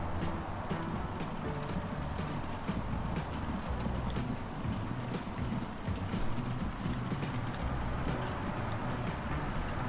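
Massed horse hooves clip-clopping in the train-management game Trainman's Fever, a dense continuous patter of many hoofbeats over a steady busy background, even and moderately loud throughout.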